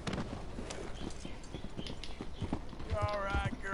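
Regular clip-clop of horse hooves throughout, growing a bit louder near the end, with background noise and a brief tonal sound late on.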